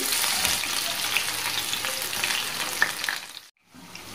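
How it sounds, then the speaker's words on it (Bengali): Steamed potato pieces frying in a pan of oil make a loud, close, continuous sizzle with occasional stirring scrapes, briefly cutting out near the end before resuming; no speech. "এবার আমি আলুটাকে একটু ভেজে নেব।"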